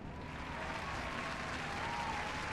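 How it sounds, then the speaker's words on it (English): Studio audience applause on a bar-themed music talk show, a steady wash of clapping that holds at even level throughout, with faint murmur and a thin whistle-like tone running underneath. "Applause."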